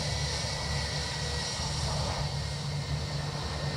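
A Ryanair jet at Dublin Airport, heard as a steady, moderately distant engine roar with a broad hiss and low rumble, unbroken for a few seconds.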